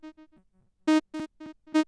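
A short plucked or sung tone followed by several repeating echoes that fade in and out, a clear delay effect with evenly spaced repeats.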